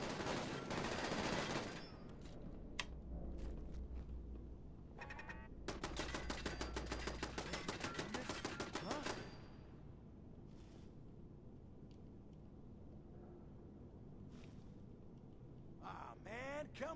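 Turret gunfire in Fallout 4: rapid automatic bursts crackle in several loud volleys, the longest lasting a few seconds, with separate single shots between them and someone talking intermittently.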